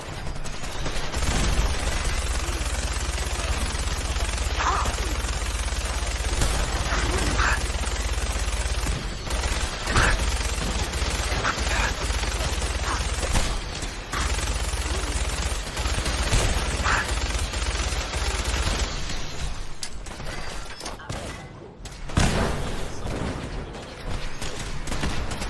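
Sustained gunfire and battle clatter from the video game Fallout 4, dense rapid bursts under a heavy low rumble that run almost unbroken, with a brief gap and mechanical clicks near the end.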